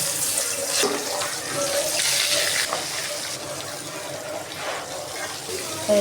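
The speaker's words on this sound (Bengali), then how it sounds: "তেল গরম হয়ে গেছে এখন মাছ দিয়ে দিলাম" Young jatka hilsa fish, rubbed with turmeric, chili and salt, fry in hot oil in a wok with a steady, loud, close sizzle and hiss throughout.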